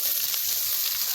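Yardlong beans (sitaw) sizzle in a frying pan as a brief, steady hiss of hot oil, moderately loud and close, with no talking.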